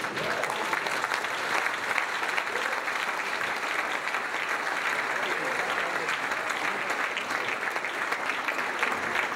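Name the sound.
audience applause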